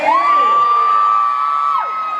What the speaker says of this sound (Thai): เสียงปรบมือมาสิจ้า